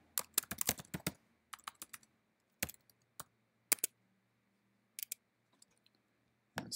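Someone types on a computer keyboard while filling in form details, with short bursts of crisp, close key clicks separated by pauses.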